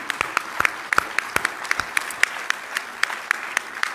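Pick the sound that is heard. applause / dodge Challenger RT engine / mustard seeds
applause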